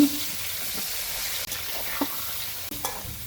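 Raw mango pieces fry in hot oil with nigella seeds, giving an even, hissing sizzle. A few sharp stirring scrapes and taps break through the frying.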